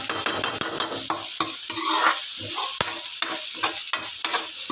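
Onion, garlic and ginger sautéing in a pan, a loud continuous sizzle broken by rapid rhythmic stirring scrapes and clacks of a utensil.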